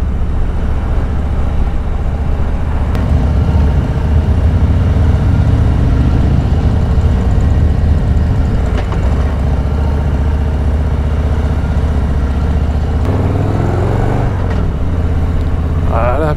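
A Harley-Davidson motorcycle engine drones steadily under load climbing an Alpine mountain pass, a continuous deep rumble with slight pitch shifts as it climbs.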